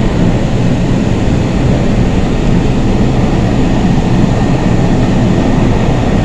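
A Kolkata Orange Line metro train runs between Beleghata and Kavi Subhash on a rainy day, giving off a loud, steady, unbroken rumble and roar close by, with no voices.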